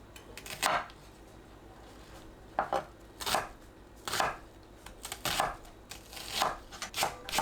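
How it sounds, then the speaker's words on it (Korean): A knife chopping onion on a cutting board, crisp close thuds in loose irregular bursts of a few strokes each, with quiet gaps between and no talking. "양파를 1cm 크기로 썰어줍니다."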